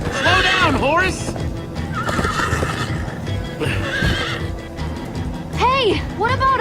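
A Minecraft: Story Mode horse whinnies repeatedly while hooves clatter at a gallop, loud neighs at the start and end with game sounds and character voices mixed underneath.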